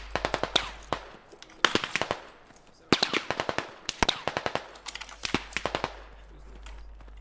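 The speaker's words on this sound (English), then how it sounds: "I'm pretty sure that's our own team shooting at us." Rapid bursts of automatic gunfire from the military shooter game Squad, crackling in quick volleys of many shots with short pauses between them, loud and close, with a low steady hum underneath.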